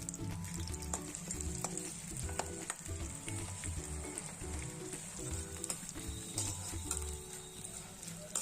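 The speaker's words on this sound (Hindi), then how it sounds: "तो अब हमारी गोंद फ्राई हो रही है" Edible gum (gond) frying in hot ghee in a kadhai, a steady close sizzle with repeated metallic scrapes and stirring knocks and a faint hum, no voices.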